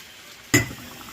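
A single sharp clatter of a utensil against a pot, followed by soft, faint stirring and scraping of zucchini cooking in its juices.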